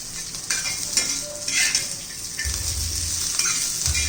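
Peanuts and garlic dry-roasting in a pan for Kolhapuri thecha, with close scraping stirs and light clinks over a soft, steady sizzle and no talk.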